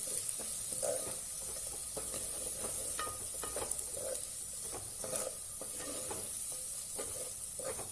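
Saoji chicken masala sautéing on medium gas, with a continuous sizzle and repeated scraping strokes of a spatula against the pan, heard up close and with no talking.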